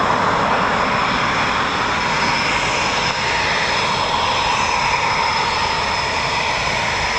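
A Tranche 1 Eurofighter Typhoon FGR4 jet of the RAF, the reserve display aircraft, roars with a loud, steady engine wash that holds constant throughout, close and unbroken with no talk.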